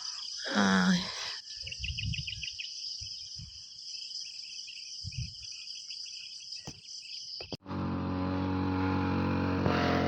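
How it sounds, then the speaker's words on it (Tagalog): Morning birdsong, a warbling call and brief trilled chirps, over a steady high insect drone, then a motor engine starts up near the end. "Sarap sa tenga nung huni ng mga ibon."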